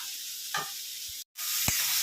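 Masala with turmeric and salt sizzles steadily as it is stirred and fried in a pan, with a couple of scraping stir strokes and a brief cut to silence partway through.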